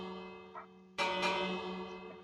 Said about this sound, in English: So now you can make a doorbell as well.